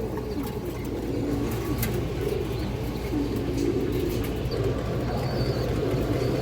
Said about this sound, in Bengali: এই দেখেন বুট ঠোঁটের কবুতরগুলো